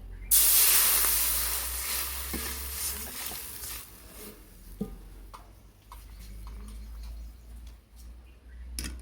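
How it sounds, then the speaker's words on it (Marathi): A loud, sudden sizzling hiss as water is poured into a hot wok, dying down gradually into bubbling with occasional small pops and clinks. "त्याच कढईमध्ये आपण आता थोडंसं पाणी टाकून घेणार आहोत"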